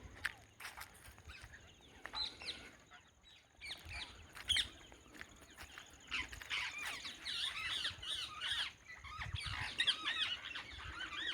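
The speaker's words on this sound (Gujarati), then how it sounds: "જો પોપટ હે" A parrot squawks repeatedly outdoors on a farm among other bird chatter, harsh calls rising in bursts that grow busier toward the end, with rustling and footsteps underneath.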